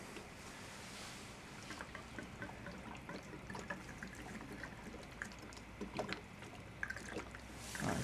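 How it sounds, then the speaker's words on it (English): Fuel glugs and splashes as it is poured slowly into the tank of a Porsche 928, a faint, irregular liquid trickle over a soft background hiss. "Right, I've glugged about a litre in"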